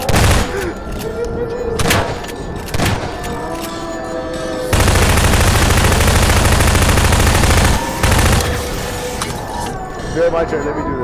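Gunfire in the video game Garry's Mod, with rapid bursts and single shots at first, then a loud sustained machine-gun stream of about three seconds, followed by scattered shots, all under excited talking.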